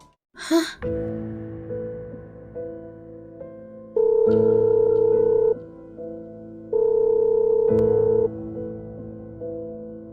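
Unanswered phone call ringback tone repeating in steady long beeps, with breathy sighs and soft background tones in a Sakura School Simulator drama scene.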